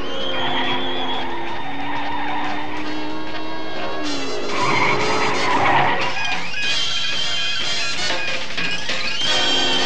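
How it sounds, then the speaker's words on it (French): Cartoon race cars, numbers 46 and 13, speed along in a busy animated chase, with engine whines, skids and squeals layered over music and effects, loud and continuous throughout. "la voiture numéro 46 et la voiture numéro 13 font une course fantastique"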